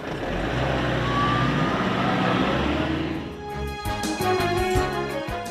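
A farm truck carrying fresh produce from the field to market rumbles along at close range with a steady engine drone, which thins out partway through as other tonal sounds come in.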